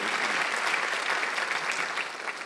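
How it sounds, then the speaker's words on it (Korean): A church congregation applauds during a Sunday worship service, a dense, steady wash of many hands clapping that holds at an even level for the whole stretch. "빨리 박수 영광 돌리세요"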